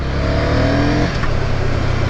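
A Ducati Scrambler 800 motorcycle, a 2024 model, runs loud and close with a steady engine drone that shifts partway through into a rougher, crackling burble as the exhaust pops on deceleration.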